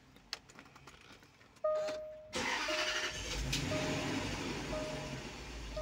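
A car engine starts in Dubai: a short cranking burst, then the engine catches and settles into a steady close idle rumble.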